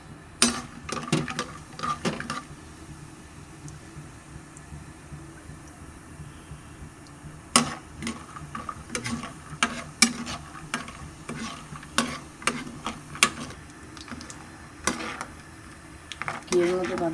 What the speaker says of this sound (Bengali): আগে বাদামগুলো হালকা করে ভেজে নেব।